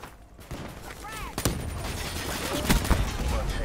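Dense, rapid gunfire in the video game Call of Duty Black Ops 3, with sharp bursts of shots over constant noisy battle ambience and a few short game sound effects.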